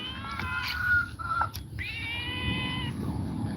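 A cat meows in a few drawn-out, tonal calls, near and clear, over steady low background rumble and a faint high hiss, with no talking.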